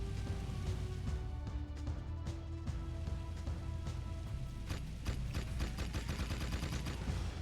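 Rapid machine gun bursts crackle in the video game Jak 2, with sharp repeated shots clustering into dense rattling volleys toward the end, fairly quiet overall.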